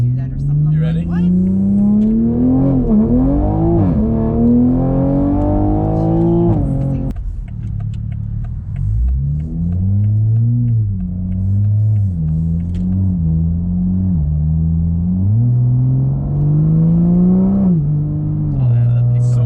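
A car engine revs and accelerates loudly and close, rising in pitch in surges before a shift, then running at steadier revs, with people talking over it throughout.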